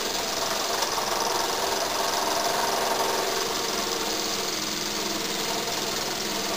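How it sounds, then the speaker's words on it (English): Small oscillating V-twin model steam engine, built like a Harley-Davidson and mounted on a cast aluminum base, running with a fast, smooth, continuous chuffing hum at a steady even pace, close and alone. "Here we'll run one of the V-twins, my version of a Harley-Davidson. These run real smooth, these V-twins."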